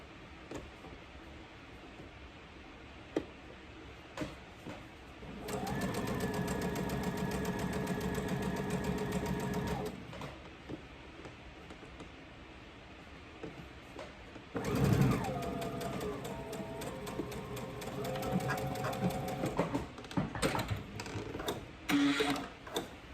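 Sewing machine stitching a raglan shirt sleeve, with a short backstitch: two bursts of steady mechanical whirring, about four seconds each and close by, separated by quieter handling clicks and rustles.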